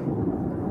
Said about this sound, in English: See him start when the thunder rolls.